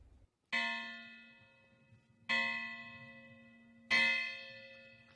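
The West Virginia state bell rings three slow, evenly spaced strokes at a ceremony at the state Capitol, each clear metallic peal humming and fading before the next.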